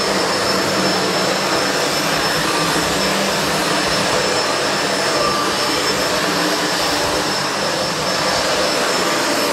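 A SEBO Felix upright vacuum cleaner runs steadily on a hard floor, a loud, constant, close whine and rushing airflow with no break and no voices.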